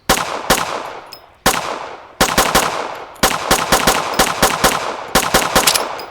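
Firearm shots ring out in the video game Road to Vostok, first single sharp cracks spaced apart, then rapid bursts of repeated gunfire, loud and close with no talk.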